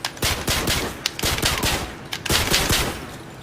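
Akimbo pistols fired in a video game, loud sharp shots in quick irregular bursts, several clusters of rapid cracks over a few seconds.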